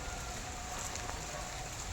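Rain falls steadily outdoors in a garden, a soft even hiss of drops with no breaks, fairly faint and continuous.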